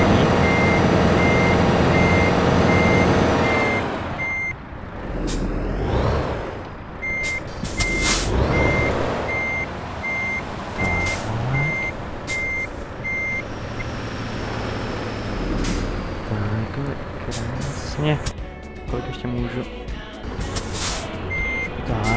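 A truck's reversing alarm beeps in a steady repeating rhythm while parking in Euro Truck Simulator 2, loud over a running diesel engine with air brake hisses and shifting engine noise.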